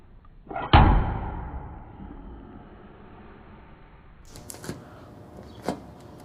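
A hard slide hammer slap jerks at a dent in a car fender, a single loud metallic bang ringing briefly, followed after a pause by a few lighter clicks and taps.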